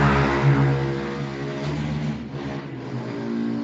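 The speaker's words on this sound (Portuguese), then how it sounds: "moto barulhenta" Loud motorcycle outside passing by, a steady, rough engine drone with strong low harmonics that rises and holds for several seconds, heard alone without talk.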